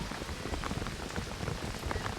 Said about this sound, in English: the rain continues to pelt down